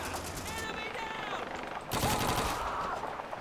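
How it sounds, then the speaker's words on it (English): A .30 cal machine gun fires in rapid continuous bursts in the video game Call of Duty 2, with a sharper burst partway through, while someone talks over the gunfire. "But the 30 cal was a more than sufficient machine gun that actually was pretty dang good."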